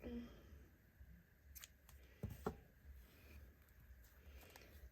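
Scissors snip through yarn while crocheting a small doll, a couple of quick crisp cuts in the middle against a quiet room with faint handling noise.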